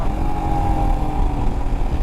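A 2021 Royal Enfield Himalayan BS4 motorcycle underway, its engine a steady low rumble with wind noise, loud and close, no talk.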